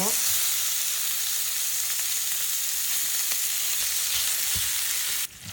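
Bacon frying in a pan for a pork leg stew, a steady close broadband sizzle with scattered pops and crackles that holds loud throughout, then drops off abruptly near the end.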